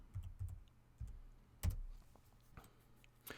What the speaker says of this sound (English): Let's go over why I'm typing like an idiot.